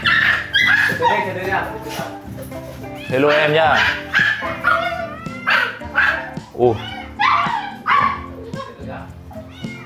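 A small dog being groomed and trimmed gives repeated yips, whimpers and short barks throughout, mixed in with people talking nearby.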